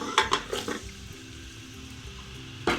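Sliced onions dropped into two spoons of hot oil in a cooking pot for chicken biryani, with a few quick clattering stirs up front, then a steady quiet sizzle and one more scrape near the end.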